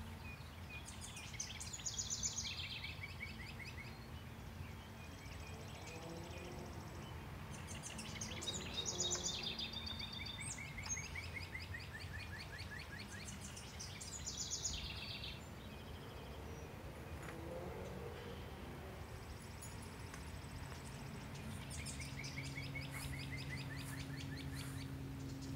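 A house wren sings in a garden, repeated rapid bubbling trills at moderate distance, separated by pauses, over faint insect hum and low background noise.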